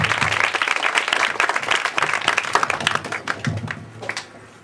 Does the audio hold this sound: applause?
yes